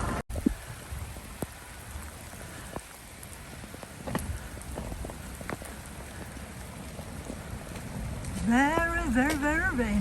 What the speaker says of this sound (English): I don't think I've ever known it this rainy at Disney before